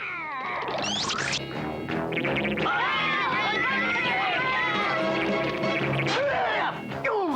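A cartoon cat in a Smurfs episode lets out loud, drawn-out wavering meows and yowls over busy, scrambling action sounds, repeated across several seconds.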